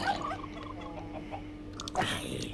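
Minecraft chickens cluck faintly inside a coop in the game, as quiet, scattered, bird-like calls over a low hum, with a slightly louder burst near the end.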